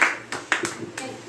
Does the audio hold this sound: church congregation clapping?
yes